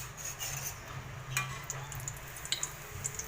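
Tortang isda, a fish omelette, frying in a pan, with a steady soft sizzle and occasional light pops and clinks of a utensil, close and alone.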